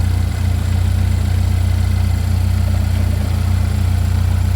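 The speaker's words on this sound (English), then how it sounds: "I don't like that crackling sound." A Chevy Equinox engine idles steadily with a low, constant rumble, faint irregular crackling ticking over the top, no voices.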